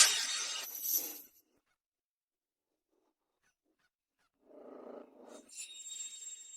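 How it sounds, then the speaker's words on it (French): A dog gives a short growling bark burst, close and fairly loud, then near silence before further rough vocal sounds and a high tone rise toward the end. "pourquoi il y a un chien qui aboie?"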